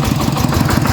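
A tractor engine runs close by, a steady low chugging rumble with quick, even pulses throughout the short stretch.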